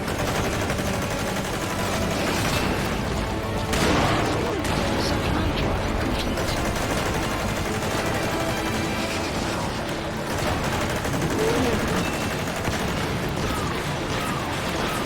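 Sustained video game gunfire from the sniper Quiet in Metal Gear Solid V, dense and continuous with sharper shots breaking through, mixed with a busy battle din throughout.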